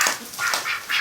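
Muscovy ducks inside a barn give a few quick, raspy calls in succession, close and fairly loud.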